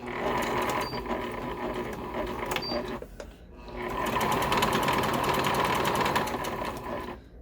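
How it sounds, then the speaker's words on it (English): A sewing machine set to a straight stitch with stitch length 3 runs a pillow seam with a centered zipper, whirring steadily up close, pausing briefly near the midpoint, then resuming at an even pace. "I'm gonna start with my stitch length set to 3, straight stitch"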